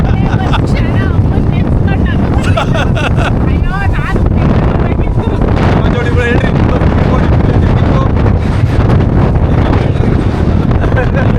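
A speedboat ride is dominated by loud, constant wind buffeting the microphone over the engine and rushing water, with voices breaking through at moments.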